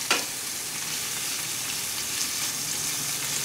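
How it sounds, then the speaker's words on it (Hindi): Chilli paneer tikka fries in ghee on a flat tava, a steady close sizzle and spatter with a sharp stir at the start, continuing evenly without talk. "इसको तवे में सिर्फ फ्राई करना है।"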